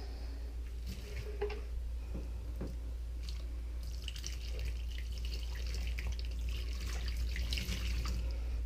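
Tap water runs steadily while hands are rinsed during a guinea pig bath, a low continuous wash with small splashes and drips, fairly faint and without talk.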